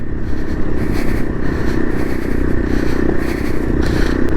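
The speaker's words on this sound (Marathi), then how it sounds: "काय गाडी निघते यार या ऑफ टेरनमधून" Off-road motorcycle ridden over a rough, broken mountain road between Leh and Turtuk in Ladakh: a loud, close engine drone mixed with constant rattling and scraping from the bumpy surface.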